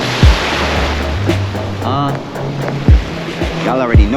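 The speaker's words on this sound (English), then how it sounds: "waves crashing on the feet" Ocean waves crash on the shore around the feet, a rushing surf wash with a few loud splashes, while voices sound nearby and talk over the water.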